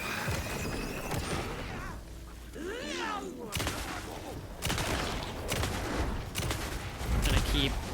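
Gunshots in Alan Wake 2, several sharp separate blasts spaced over a few seconds amid game ambience and voices, loudest toward the end.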